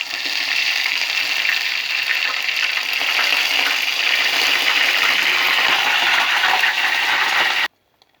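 Something frying in hot oil in a pan, giving a loud, steady, dense sizzle that runs without a break for several seconds and then cuts off abruptly.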